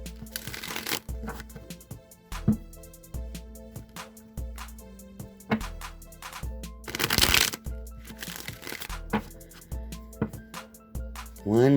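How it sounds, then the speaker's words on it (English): A Rider-Waite tarot deck being shuffled by hand during a reading: repeated riffling and flicking bursts of cards, close and crisp, with brief pauses between shuffles and soft background hum. "let me go ahead and shuffle the Rider-Waite deck a few times"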